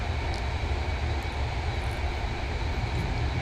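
Avro Vulcan jet bomber in the MSFS 2024 flight simulator, a steady broadband engine roar holding constant throughout with no voices.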